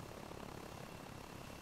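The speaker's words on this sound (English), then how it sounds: "this is Alpha Tango Cheesecake coming in for a landing." In the DayZ/Arma Exile mod, an aircraft engine drones steadily and loudly as the plane comes in to land on a large open square, with no talking over it.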